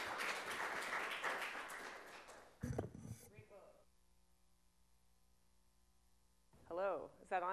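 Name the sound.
audience applause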